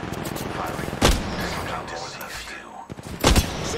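Two heavy gunshots in a first-person shooter match, each a loud booming crack spaced about two seconds apart over a busy background, with people talking throughout.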